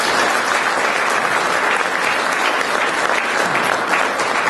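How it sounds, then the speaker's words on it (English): Sustained applause from a live audience for a presenter named James, steady and dense clapping filling the room throughout with no talk over it. "One more round of applause for James,"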